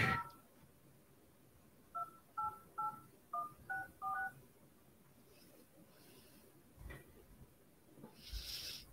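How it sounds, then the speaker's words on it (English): A phone number is keyed in as a quick run of about seven distinct touch-tone beeps, clear and close, followed by faint line noise and a soft click near the end; no speech. "Dialing?"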